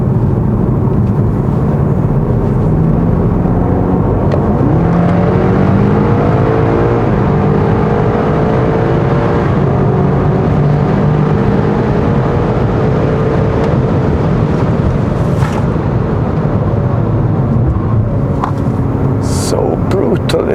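BMW M5 Competition with ceramic brakes, engine and exhaust droning steadily while driving, the pitch rising and falling through gear changes, with someone talking over it the whole time.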